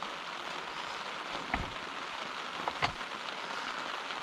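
Steady rain falls on a cold campsite in the highlands, an even close hiss of drops with a couple of brief louder splashes or knocks, no voices.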